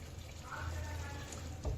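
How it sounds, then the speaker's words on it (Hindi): Half a cup of water is poured into a pan of salted cauliflower and peas, a short, steady splashing pour lasting under two seconds. "आधा कप पानी डाल दिया है"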